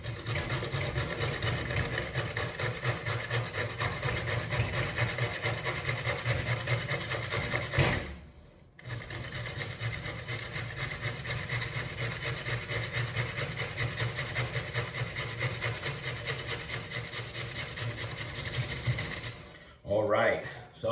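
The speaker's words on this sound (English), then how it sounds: "we just grated 2 cucumbers, and as you can see, the big setting on the box grater" Cucumbers rub against the large holes of a box grater in steady, rhythmic back-and-forth strokes. The grating stops briefly midway, resumes, and ends with a few clunks.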